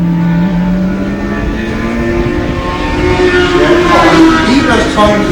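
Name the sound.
racing motorcycle passing on track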